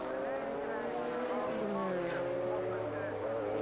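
FIA GT race cars from the 2001 season race in close company, engines droning and shifting pitch as they pass through the corners, with a commentator talking over the steady roar.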